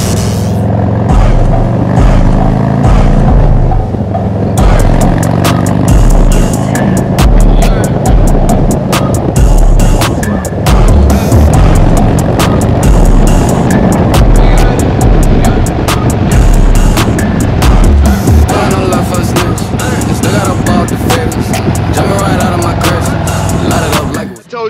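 A motorcycle cruises through Cleveland on the way to the beach, its engine droning steadily under loud wind buffeting, with sharp clicks and ticks scattered throughout.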